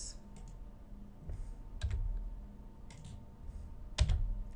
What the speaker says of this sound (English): type in the answer that I got in my notes